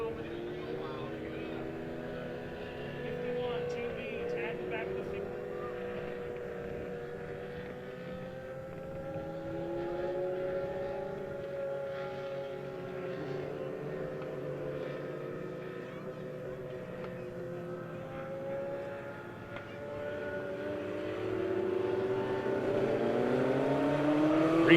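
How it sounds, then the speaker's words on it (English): Young Lions INX Legends race cars in a heat race at Monett Motor Speedway, their engines droning and shifting pitch steadily throughout, with a commentator talking over them. "So Jet Stovall still out front of your Young Lions INX Legends heat race number 1 here"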